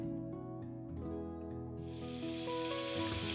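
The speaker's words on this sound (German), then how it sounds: "In etwas Olivenöl das Fleisch scharf anbraten" Turkey meat searing in olive oil in a hot pan, a steady close sizzle and frying hiss that swells louder partway through as the meat hits the oil, with no talk.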